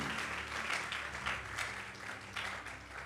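A church congregation applauds in a dense, continuous wash of clapping that stays loud and even throughout, with faint voices mixed in.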